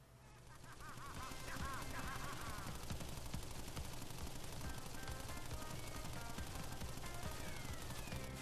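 Pinstripe boss from Crash Bandicoot N-Sane Trilogy firing his tommy gun, a steady rapid stream of gunfire rising in after a second and continuing unbroken at moderate level with game effects over it.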